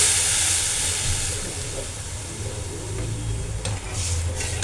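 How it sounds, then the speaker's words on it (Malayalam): Thick rice water is poured into a hot pan of sizzling shallots, giving a soft steady hiss and bubbling sizzle at moderate volume, heard alone with no talk. "അപ്പം നമുക്ക് അതിനകത്തോട്ട് ഈ കഞ്ഞിവെള്ളം"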